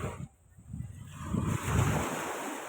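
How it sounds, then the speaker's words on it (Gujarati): Ocean surf at Shivrajpur beach near Dwarka, a steady wash of waves with wind buffeting the microphone, swelling louder in the second half. "જોઈ લો દરિયો"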